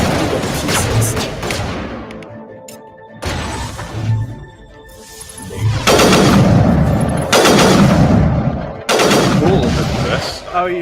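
Loud Kaiser rifle shots ring out in a video game, several sharp blasts in irregular bursts with echoing tails and brief gaps between them.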